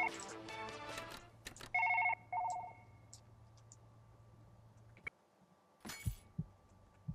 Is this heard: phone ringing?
yes